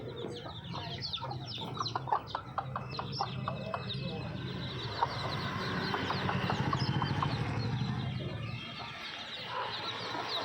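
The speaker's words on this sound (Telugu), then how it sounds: "చూడండి పిల్లల్ని ఎలా పిలుస్తుందో తినడానికి చూడండి" A mother hen clucks repeatedly, calling her chicks to eat, with soft rapid clucks and peeps close by and people talking over the farmyard sounds.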